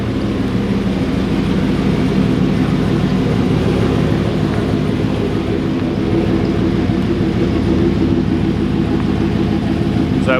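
A ute with a rebuilt power steering box drives along, its engine and road noise forming a loud, steady rumble that holds throughout with no distinct breaks.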